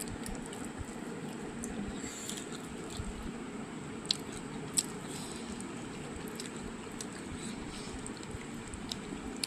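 Someone eating chicken biryani close up, with soft wet chewing and squishing and occasional faint crunchy bites over a low background hum.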